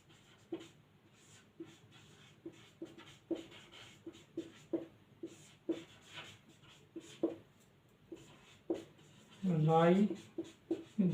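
A pen scratches across paper while notes are written, giving faint, close, rhythmic short strokes that repeat steadily and end in a brief louder rustle.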